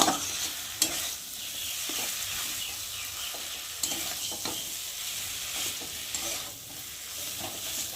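Vegetables sizzling in a hot pan as tomato, onion and garlic are stirred together for an aloo chokha, with a steady frying hiss broken by scraping spoon strokes and no talk.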